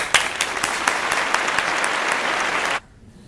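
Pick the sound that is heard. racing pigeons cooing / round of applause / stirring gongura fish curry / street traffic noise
round of applause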